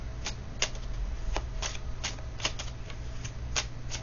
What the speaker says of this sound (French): Donc je vais sortir une de chaque.